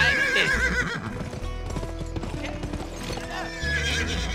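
A horse in the western video game Gun gallops with rhythmic clip-clop hoofbeats and neighs loudly, backed by game music and effects, with no talking over it.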